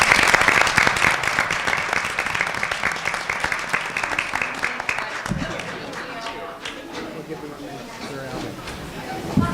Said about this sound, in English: We'll give you one last round of applause.